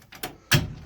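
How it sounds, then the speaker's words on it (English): A hinged trap door on a chicken coop swings and knocks, giving two short wooden bumps close by, the second one louder, with no talking. "You can see the door swings like that,"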